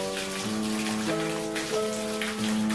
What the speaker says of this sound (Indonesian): kita bisa mendengarkan waktu pagi hari tadi suara gemericik air